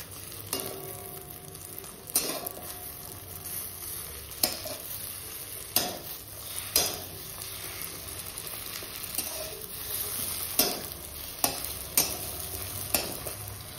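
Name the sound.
eggs frying and sizzling in a pan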